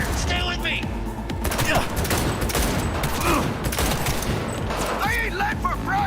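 Heavy, sustained gunfire roars in the video game Cyberpunk 2077, a dense continuous barrage of overlapping shots with shouting voices heard through the din.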